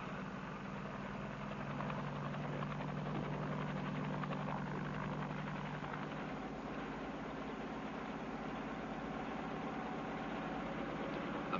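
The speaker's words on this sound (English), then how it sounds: "he makes a careful test hover before proceeding" A helicopter carrying a sling load holds a test hover, producing a steady, unbroken engine and rotor drone that stays even and fairly distant for the whole stretch, with no voices.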